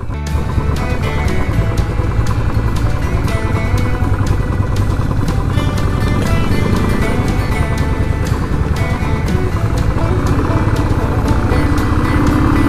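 A motorcycle climbing a steep, rough mountain road, its engine droning steadily and loudly close by, with a continuous rumble and rhythmic engine pulses, no talk over it.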